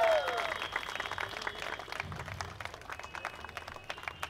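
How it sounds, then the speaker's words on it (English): A crowd at a champagne bottle popping gathering applauds, with a pattering of claps that builds and carries on for several seconds, and scattered voices mixed in. "So can we cheer him on, people?"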